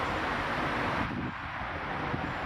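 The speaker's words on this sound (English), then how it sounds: "It's kind of windy in here." Steady broadband wind rush buffets the microphone throughout, loud and continuous with no speech over it.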